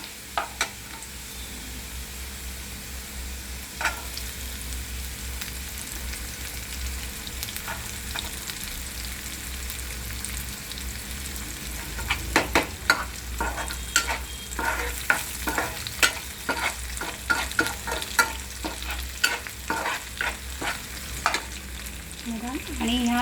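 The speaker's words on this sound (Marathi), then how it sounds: "आता हा कांदा भाजते ह्याच्यामध्ये आपण मिरच्या पण टाकायच्या आहेत" Onion and small green chillies fry in a pan, a soft steady sizzle that turns into a busy run of scraping spatula strokes in the second half, close by with no talk.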